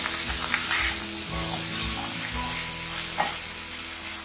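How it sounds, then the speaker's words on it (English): Ground ginger and cloves roasting in a pan over medium-low heat, a steady close sizzle with soft stirring scrapes and an occasional clink, no voices. "Now add the grounded ginger with cloves. Now roast the ginger."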